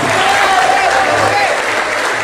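Dense applause from a gathered audience at a regional event, loud and continuous through the short stretch with a faint tonal hum beneath.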